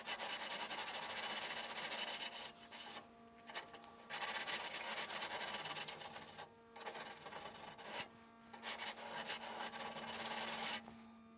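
Hand sanding a curved Porsche 911 body contour with 180 grit sandpaper, close rhythmic scraping strokes in long bursts separated by brief pauses.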